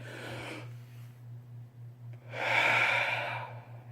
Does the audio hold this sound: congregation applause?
no